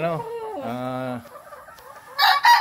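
An eight-month-old Sweater Raptor gamecock rooster gives a few short, harmonic clucks close by, followed by quieter rustling and a couple of brief noisy bursts near the end.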